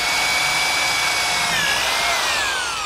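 A power drill boring a hole for caster carriage bolts in a rolling shop cabinet, a continuous high whine that dips slightly in pitch as the bit bites, close and loud.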